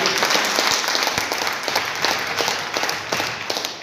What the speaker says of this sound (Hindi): सुनील रश्मि जी के लिए एक बार फिर से जोरदार ताली